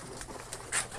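Racing pigeons coo softly in their loft, a few low murmuring coos close by with a brief brighter flutter near the end, no voices.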